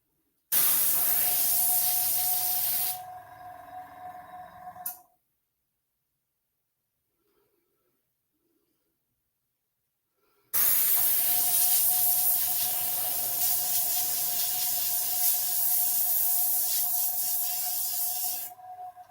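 An airbrush sprays in two bursts of close, steady hiss over a faint tonal hum, a few seconds each, separated by several seconds of silence, with no voices.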